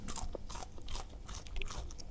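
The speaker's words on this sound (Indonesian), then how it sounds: "Kriuk, renyah, crispy, pokoknya mantap." Indonesian fried snacks (gorengan) crunch loudly as they are bitten and chewed close up, a continuous run of crisp, crackling bites and munching.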